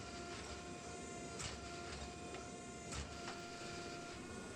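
A forging press squeezes a Damascus steel billet in a workshop, giving a steady mechanical hum and grind with a few sharp squeaks and cracks from the hot metal under the die.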